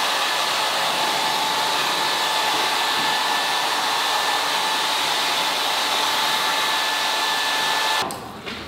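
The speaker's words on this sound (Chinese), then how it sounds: "然后我们稍微用吹风机加热" A hair dryer blows steadily and loudly on a hair curler to heat a short Korean-style permed bob, a constant airy roar that cuts off near the end.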